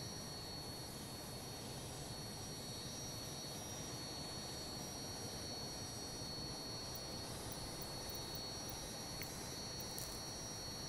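A T1 Hawk jet engine in Microsoft Flight Simulator roars with a steady, dense whine and rumble, holding constant and fairly loud throughout with no talk over it.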